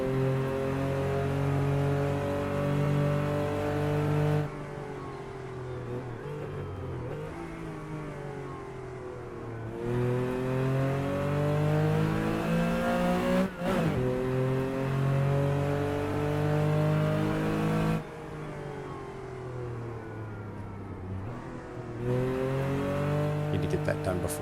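Porsche 914/6 flat-six engine revving hard on the San Bovio racing game circuit, climbing through gears with rising pitch sweeps and shifts, loud and continuous under a talking voice.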